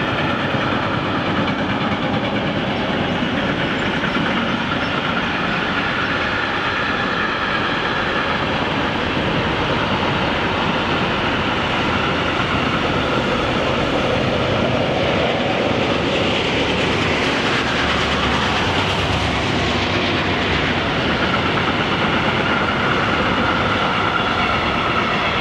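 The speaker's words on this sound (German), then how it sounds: "Der Muckefuck Express mit seiner 4-System 185er hat gerade eben das Bild verlassen." A freight train hauled by a class 185 multi-system electric locomotive rolls past on the Rhine valley line, a steady, loud, continuous roar of wagons and wheels lasting throughout with no speech.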